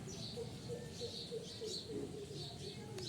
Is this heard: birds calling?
yes